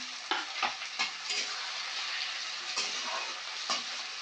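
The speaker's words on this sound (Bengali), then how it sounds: "চিকেনটা দিয়ে এবারে মধ্যে টমেটো কুচি দেবো, 3টে কাঁচা লঙ্কা দিয়ে দিলাম" Chicken fries in a pan with chopped tomato and green chillies for chicken kosha, giving a steady hiss and sizzle broken by several soft stirring scrapes, close and fairly quiet, with no voices.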